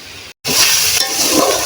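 Spice paste sizzles and fries steadily in hot oil in a pan for a pangas fish curry, with a brief silent gap before the loud frying continues along with faint stirring.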